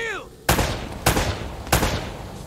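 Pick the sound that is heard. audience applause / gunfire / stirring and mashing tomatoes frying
gunfire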